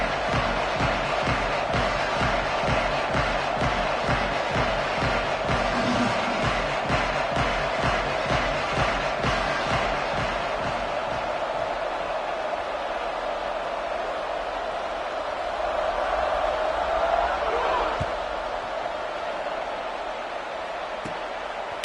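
A football stadium crowd in a video game keeps up a dense, steady roar of cheering throughout. A rhythmic pounding beat runs beneath it during the first half, and a swell of louder cheering comes near the end.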